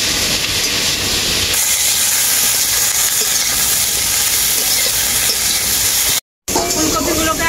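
Purple cauliflower with salt frying in a pan, a loud steady hiss and sizzle filling the clip, cut by a brief dropout near the end.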